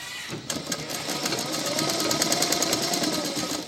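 A sewing machine stitches pieces of sky-blue fabric, starting after a brief pause and running in a fast, steady mechanical rattle of needle strokes close to the microphone.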